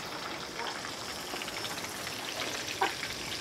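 Steady crackling sizzle of river fish frying in a pan at a campsite, constant and close, with a brief louder pop near the end.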